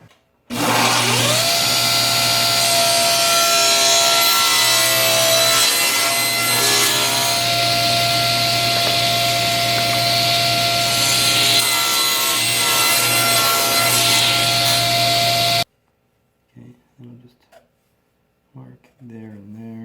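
A table saw rips through reclaimed hardwood in a loud, steady cut of about fifteen seconds with a sustained motor whine, then stops abruptly, leaving quieter scattered workshop noises.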